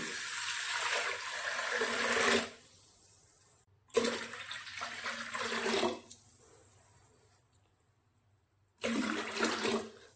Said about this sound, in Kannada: ಇದಕ್ಕೆ ನೀರು ಹಾಕ್ತೀನಿ